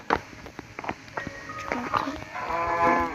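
A sheep bleats in a video game, with short animal calls rising near the end over someone talking casually in the foreground.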